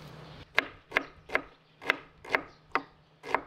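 A knife minces onion on a chopping board, seven crisp, evenly spaced chops landing close and clear with no talking.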